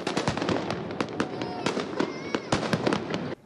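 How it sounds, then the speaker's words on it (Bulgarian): Fireworks burst over Sofia on New Year's Eve, with dense, rapid cracks and booms that overlap in a continuous barrage as crowd noise rises and falls underneath, until the sound stops abruptly. "с шампанско и забележителна заря София посрещна новата година"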